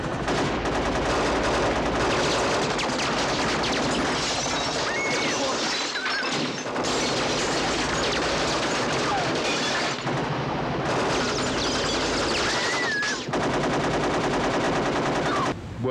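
Squib bullet-hit charges, thousands of them rigged into a trailer for a night film stunt on Lethal Weapon 2, go off in a loud, dense barrage of rapid cracks and pops that runs almost continuously, with only brief dips.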